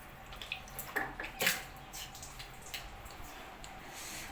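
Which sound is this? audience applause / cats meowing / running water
running water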